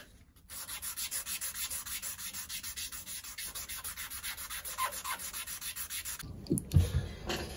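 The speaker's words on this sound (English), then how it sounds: "then you want to start sanding your knife" Steady rhythmic rasping of 600-grit sandpaper rubbed back and forth on a knife handle, close and even, with a few louder scrapes and a bump near the end, in a small workshop.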